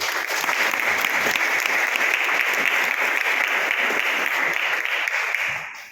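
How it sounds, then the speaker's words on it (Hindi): Audience applause at a Hindi-language motivational talk: dense, steady clapping from a large crowd that holds for about six seconds before fading at the end. "एक बार तालियां बजाएं।"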